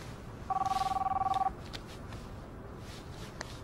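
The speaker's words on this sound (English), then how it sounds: "Oh, my phone." A mobile phone rings with a rapid trilling electronic burst lasting about a second, moderately loud over quiet room noise, followed by faint clicks.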